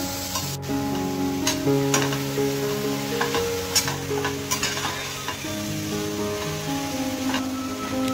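Onion, tomato and beans fry and sizzle in a pan, a steady close hiss with stirring scrapes and light clinks throughout, with no talking.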